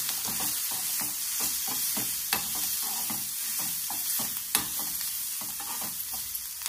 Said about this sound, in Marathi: कांदा भाजला गेला पाहिजे.